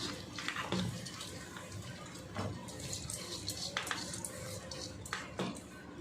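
Roasted green gram lentils being washed in a pan, with water sloshing and grains and metal clinking in short splashy bursts throughout, close and moderately loud.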